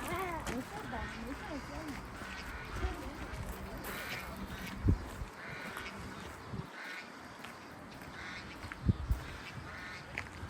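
Farm-raised ducks quack intermittently outdoors near a park in Dalian amid a steady background murmur, with people talking nearby and a few louder thumps.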